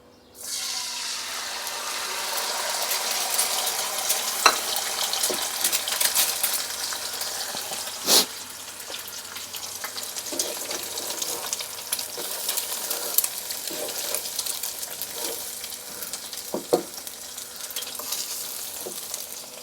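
Egg frying in a pan for a Thai-style seasoned pan egg dish, with a steady close sizzle throughout and occasional sharp clicks of a utensil against the pan.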